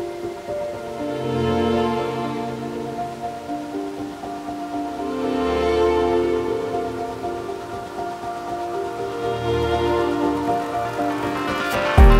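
Steady rain pours down near a waterfall in Meghalaya, India, a dense continuous hiss and patter that swells and eases in waves, loud and without voices.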